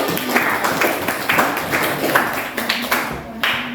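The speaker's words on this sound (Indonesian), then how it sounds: "kita beri tepuk tangan" A chemistry class claps for a student after a presentation, with a short, loose burst of hand claps from a small group in a classroom, fairly close and irregular in rhythm.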